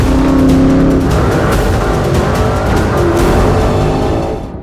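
A Porsche Cayenne Turbo GT engine roars loud and close, revving hard with a rising, sustained growl over about four seconds before easing off at the end.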